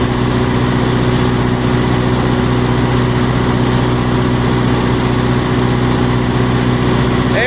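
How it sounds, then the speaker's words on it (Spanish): A Teksan three-phase electric generator engine runs during its cool-down period, giving a loud, steady, close drone with a constant low hum and no change in pitch throughout. "Pero va a mandar a enfriar el motor."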